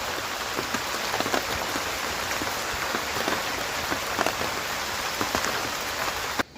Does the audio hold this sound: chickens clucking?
no